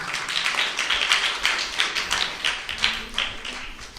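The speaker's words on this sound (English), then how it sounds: "Let's give him a round of applause." A classroom of children and parents applauds a student's poster about Raksha Bandhan and Ram Bhagwan, with steady, moderately close clapping that swells in rhythmic waves for several seconds, no talk over it.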